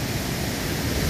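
Dense, steady roar of rushing water from the Curug Sawer waterfall at Situgunung, Sukabumi, close and continuous with no voices.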